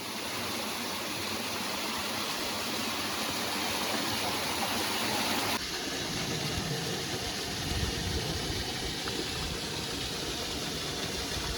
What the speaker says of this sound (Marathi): हे बघा असे छोटे छोटे धबधबे चालू आहेत अजून.